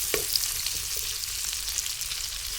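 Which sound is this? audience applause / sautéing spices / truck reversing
sautéing spices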